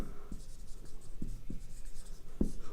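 Pen writing on paper, a steady scratchy rubbing with small taps at stroke starts, close and continuous under a faint background hum.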